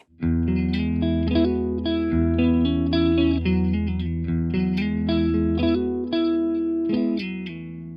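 Clean electric guitar tone through a Rajani VOD-50 amp with spring reverb, a Shure Gold Masquerader SM03 guitar playing sustained chords and melodic notes steadily for eight seconds, loud and close, with no talking.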